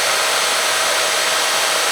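A power polishing tool buffs a vintage car taillight, giving a loud continuous high whine and hiss that stays even from start to finish, close up and with no talking.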